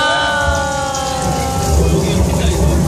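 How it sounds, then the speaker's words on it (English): Artificial rain sprayed from sprinklers set high among trees on a studio backlot weather-effect set at Universal Studios, a steady loud hiss of falling water with a voice talking over it. "Rain from sprinklers near the tops of the trees."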